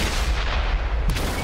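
A tank cannon fires in the video game World of Tanks, a loud heavy boom that fills the moment, with a sharp crack near the end.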